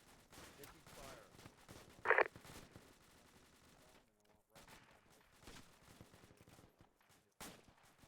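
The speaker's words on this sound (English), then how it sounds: "Taking fire" Gunfire in a military video game, a few sharp shots and a short loud crack standing out against quiet background noise, with radio-style voices talking in between.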